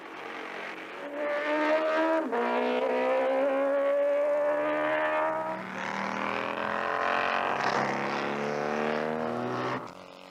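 A 1976 BMW race car in a race, its engine howling loudly with rising and falling revs through gear changes as it passes close by, then fading off.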